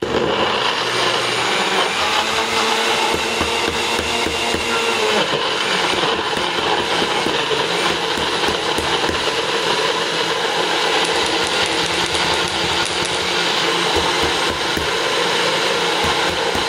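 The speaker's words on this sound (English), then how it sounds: "Should be blended. Once it's fully blended" Blender whirring through a chocolate milkshake of milk and chocolate, a loud, continuous motor drone with a churning rattle that holds steady throughout, with no voices.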